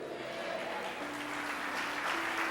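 A church congregation applauds the Lord in a continuous wash of clapping, with a sustained tone and faint background voices mixed in.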